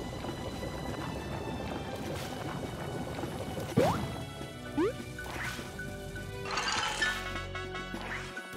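Waterfall in the video game Bug Fables, a steady, soft rushing wash of water running throughout, with a few brief chirping game effects over it.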